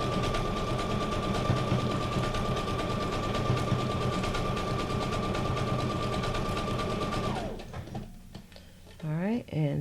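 A sewing machine stitches decorative patterns into fabric, running with a steady rapid mechanical whir for several seconds before stopping. A few clicks and handling noises follow.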